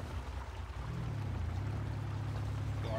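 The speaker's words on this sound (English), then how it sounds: "Yep, we hear the water." Simulated water pours and splashes in the SpinTires off-road driving game on the Evans Creek trail, under a low, steady engine drone from the truck.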